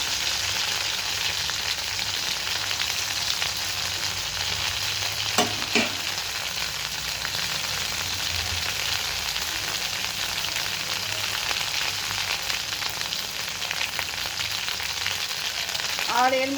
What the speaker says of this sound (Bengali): তেলটা ভালো গরম হলে আমি দিয়ে দেব এই কফির পাতা বাটাটা।